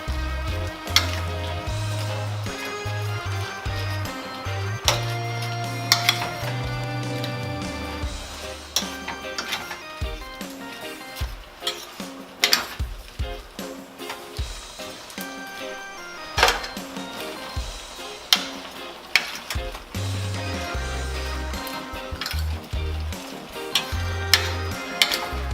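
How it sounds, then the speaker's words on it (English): Shrimp sizzle and fry for Jamaican hot pepper shrimp while a big fork stirs them, with steady crackling under repeated scraping and tapping clicks against the pan throughout, with no talking. "So I'm going to just continue to stir."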